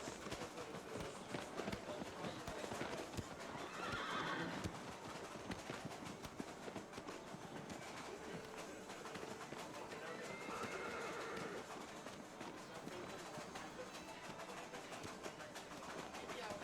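Horse hooves pound in a steady gallop, joined by whinnying calls in Shadow of the Colossus, all under continuous game sound and chatter from people talking over it.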